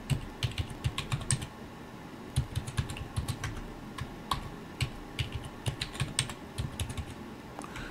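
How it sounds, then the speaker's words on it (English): Password being typed on a computer keyboard: a steady run of close, crisp keystrokes with small pauses between bursts, heard alone without any voices. "we're just going to type it in here"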